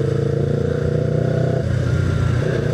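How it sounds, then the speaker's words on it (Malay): A Yamaha R25 motorcycle engine idling and revving steadily, loud and close, with a throbbing low rumble that shifts pitch partway through. "aku suka bunyi motor ni"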